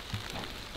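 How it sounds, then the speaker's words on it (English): Rain falls outside an off-grid homestead camper as a soft, steady patter of scattered drops across a brief moment, faint and without voices. "You know what I see out there? Rain."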